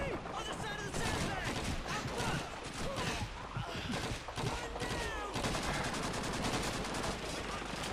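Heavy gunfire in a Call of Duty 2 battle for Hill 400, dense overlapping rifle and machine-gun bursts crackling continuously at close and mid range, with voices shouting beneath the fire.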